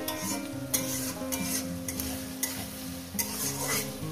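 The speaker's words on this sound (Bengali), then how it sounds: "পেঁয়াজটাকে একটু লাল লাল করে ভেজে নেব" Onions fry in oil with a pinch of turmeric until reddish for chicken bharta, making a steady close sizzle punctuated by sharp scrapes and clinks of a spatula against the pan.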